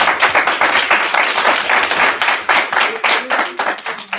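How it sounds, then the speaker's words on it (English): An audience claps for two candidates at a district forum held at St. Paul's, a close, loud burst of individual hand claps forming brisk applause throughout. "Let's give both candidates a round of applause"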